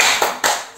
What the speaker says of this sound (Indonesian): Kita tepuk semangat, Viola.